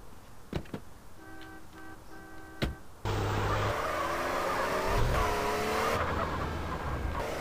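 Car driving in Grand Theft Auto San Andreas, with a quiet engine hum at first, then a loud sustained roar of engine and tire noise from the three-second mark to the end.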